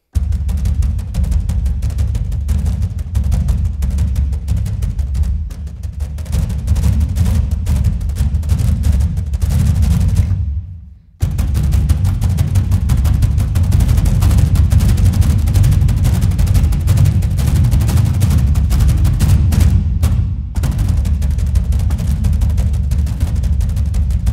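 Dense, relentless barrage of metallic percussive hits built from gong samples, booming and clattering like distant gunfire, continuous and loud with one brief drop-out midway.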